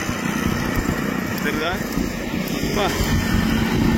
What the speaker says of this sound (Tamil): இந்த மாதிரி பழைய இன்ஜின் நல்ல புகையை கக்குதுங்க